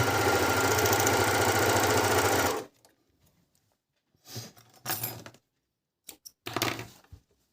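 An ELNA 904DE overlock machine runs at a steady, loud, continuous whir for about two and a half seconds, then stops; scattered faint clicks and handling bumps of fabric follow.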